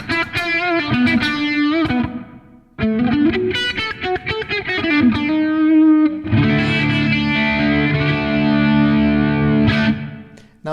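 Electric guitar played through a NUX MG-101 multi-effects unit set to a crunchy amp model with reverb: distorted chords and picked phrases ring out loud and close, with a short pause before a long sustained strummed chord that decays into reverb.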